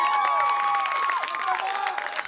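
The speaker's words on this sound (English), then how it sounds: "The crowd is getting so excited." A crowd cheers and shouts at a varsity girls' soccer game as a player breaks away toward goal. The excited voices rise and fall steadily, with some scattered clapping, and a commentator's voice runs over the noise.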